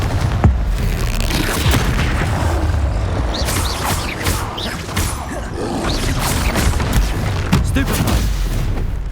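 Confringo spell explosions in Hogwarts Legacy crack and boom in quick succession amid dense combat noise, loud and close, with repeated sharp blasts over a rumbling low end.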